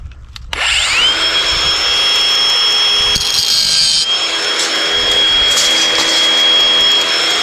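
A rebar cutter whines loud and close as it works through steel rebar on a site pouring a footing, a sustained high tool tone running nearly the whole time with a sharp start and no speech.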